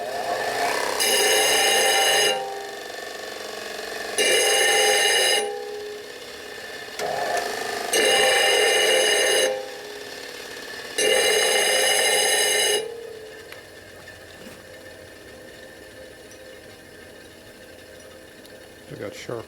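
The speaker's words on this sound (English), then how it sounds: "Smooth up the gear face just for the hell of it." An angle grinder smooths the gear face of a 1957 Harley panhead drag bike, sounding as four close, loud bursts of high whining grind separated by short pauses before the tool falls quiet.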